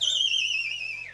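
A person whistles a single sustained, gliding tone that slowly drops in pitch, loud and close, with no other sound around it.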